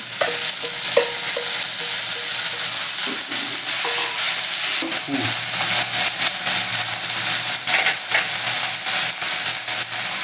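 Chopped helencha greens go into a pan of hot oil with garlic tempering, giving a steady loud sizzle and fry that runs throughout, with occasional scraping and stirring clatter of a spatula against the pan.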